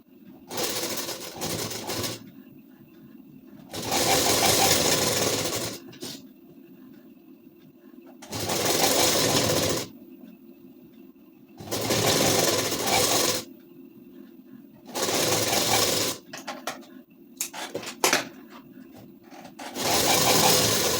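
A sewing machine stitching the sleeve of a size 34 ladies suit whirs in about six separate bursts of a few seconds each, with quiet gaps between them, near and fairly loud.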